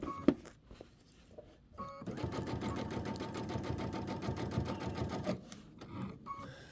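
A sewing machine stitching a quilt binding with a scalloped border gives a couple of brief isolated stitch bursts, then runs steadily for about three seconds, close and clear, before stopping.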